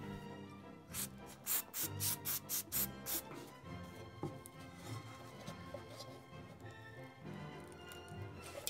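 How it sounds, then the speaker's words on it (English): Several quick bursts of prep spray hissing in a row onto old glue on a steel wheel rim, followed by softer rubbing and scraping noises. "Let's see if prep spray will break down this old glue."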